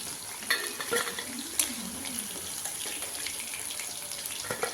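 Chicken 65 pieces deep frying in hot oil, a soft continuous bubbling sizzle close by with a few light clinks of a spoon, no one speaking.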